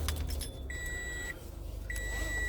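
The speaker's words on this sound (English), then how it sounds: "That's just a seatbelt beep." Seatbelt warning chime inside a parked car, two steady electronic beeps a moment apart over a low engine idle, with no talking.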